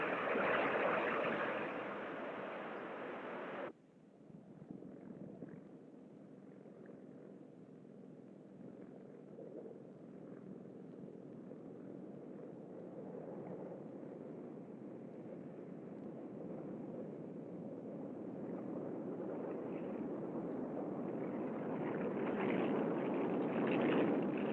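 Jet engines of the XB-70A push it down the runway at Palmdale during the takeoff roll, a muffled, distant-sounding roar that holds steady and then swells toward the end, with no voices.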